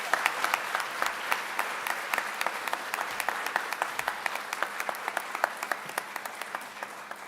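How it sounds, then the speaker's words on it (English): Sustained audience applause at a 2023 MLK tribute, dense steady clapping from a crowd with sharper individual claps standing out, continuing alone for several seconds without talk. "Let's give him one more round of applause"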